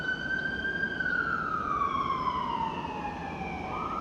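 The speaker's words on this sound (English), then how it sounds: "It's an ambulance." An ambulance siren passes outside, a loud continuous wail that slowly sweeps downward in pitch as it moves by, sounding alone over steady traffic rumble.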